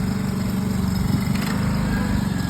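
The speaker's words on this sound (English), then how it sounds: "The engine's kind of running." A JLG boom lift engine runs steadily at close range, a continuous low throbbing drone with an even, unbroken rhythm and no talk.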